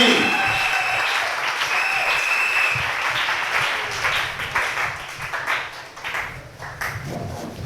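A church congregation breaks into loud sustained applause, with clapping rolling on for several seconds and slowly thinning out, while a voice speaks over it.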